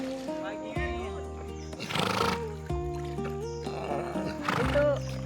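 Horses whinny and snort loudly up close while being washed at a swimming hole in Indonesia, with two strong bursts, over a steady tonal background and a busy outdoor mix.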